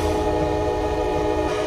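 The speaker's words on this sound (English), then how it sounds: "The blast of a train whistle." A locomotive horn sounds one sustained loud, steady blast while the train runs along the track.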